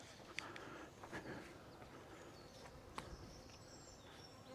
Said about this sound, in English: It's a wee fly